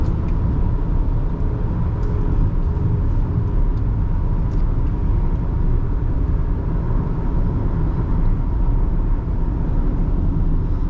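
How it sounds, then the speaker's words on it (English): A 2009 Toyota Camry XLE V6 drives hard with a loud, steady engine roar and road rumble that holds without a break. "And I could seriously spin this V6. I just spin and spin it."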